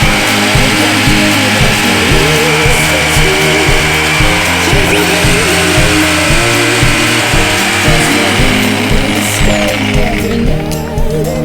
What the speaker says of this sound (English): Now, I need to go in and get the jigsaw.